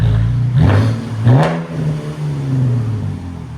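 A 2013 Cadillac ATS with a 3.6L V6 and an exhaust rattle revs loudly up close, giving two quick throttle blips before settling into a rumbling idle.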